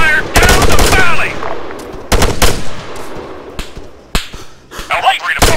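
Gunfire in the military video game Arma III: a loud close burst of automatic fire, a second burst, then scattered single shots with echoing tails, while voices shout over the combat.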